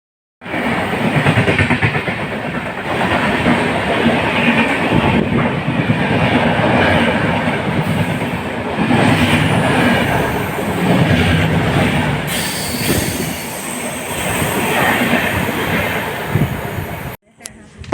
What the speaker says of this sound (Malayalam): പട്ടാമ്പിയിൽ നിന്നും ഷോർണൂരിലേക്ക് ട്രെയിൻ കാത്തു നിൽക്കുകയാണ്